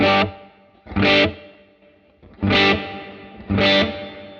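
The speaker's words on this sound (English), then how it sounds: "So here's the smaller reverb" An electric guitar played through a Line 6 Helix with a distorted tone and a small, short reverb rings out four separate strummed chords, each a loud burst followed by a brief tail and a quiet gap.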